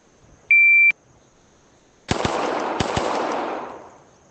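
A shot timer beeps once to start a shooting drill in the ACE VR video game. The short, steady electronic tone is followed a second later by a rapid string of loud virtual gunshots.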